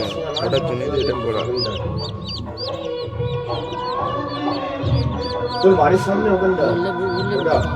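A chick with four legs clucks repeatedly in short, quick bursts nearby, with a busy background of other fowl calls and low murmuring.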